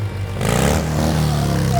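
A motorcycle engine roars in as a sound effect, a loud, close rumble that swells after the first half second and holds steady to the end.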